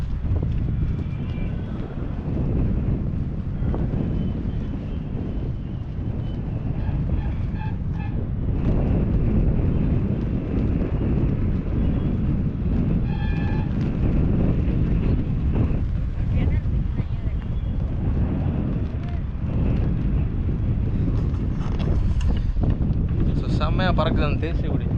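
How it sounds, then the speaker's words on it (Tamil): A national flag flaps in strong wind on a hilltop, its fluttering buried in loud, steady wind buffeting against the microphone throughout, with a few faint sounds scattered through it. "செம்மையாக பறக்குது அந்த தேசிய கொடி, வேறு லெவலில் இருக்குது."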